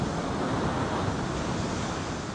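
Ocean surf washing onto a California beach, a steady broadband wash with a continuous roar and some wind noise, loud and close throughout with no talking.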